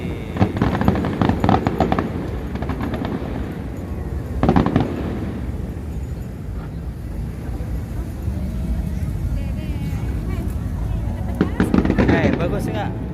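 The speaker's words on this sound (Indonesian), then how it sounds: "Petasan kembang api itu namanya" Fireworks at Monas in Jakarta for the Indonesian Independence Day celebration: loud, repeated bursts and crackling pops across a busy outdoor crowd din, with people talking nearby throughout.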